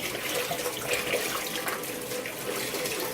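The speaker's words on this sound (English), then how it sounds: "Good water pressure. Thank you. Can you hear it?" Water runs steadily from a kitchen faucet into a sink, a continuous close hiss and splash with good pressure that holds even throughout.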